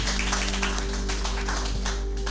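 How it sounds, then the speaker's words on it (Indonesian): Audience applause at a motivational seminar: a steady patter of many hands clapping close by, continuous and fairly loud over a constant low hum. "Tepuk tangan buat MR ya atas ilmunya"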